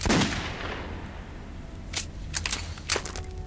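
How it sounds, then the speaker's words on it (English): Gunfire in the post-apocalyptic shooter Metro 2033: one loud shot opens, followed by several sharp, quicker reports and clattering a moment later. "Reload that shit, Artyom."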